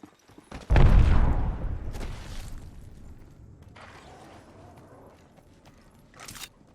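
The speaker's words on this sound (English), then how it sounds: "Throwing arc star." An arc star grenade is thrown in the video game Apex Legends. A loud sudden burst is followed by a crackling, decaying electric hiss, with a few fainter clicks and a sharp blip near the end.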